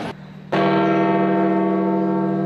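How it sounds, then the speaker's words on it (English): A church bell rings out in Vatican City on a morning of mourning, one loud resonant strike at about half a second that then hums and sustains evenly, with a faint earlier tone before it. "morning bells rang throughout the Vatican City"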